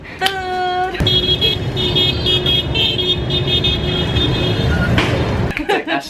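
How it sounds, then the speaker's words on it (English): Car horns honk repeatedly amid busy street traffic in Vietnam, with a sustained horn tone opening and then overlapping honks in varied rhythms, loud and close over a constant engine and road din. "do you notice that they also honk with some rhythm? Some honk like that, some honk like that."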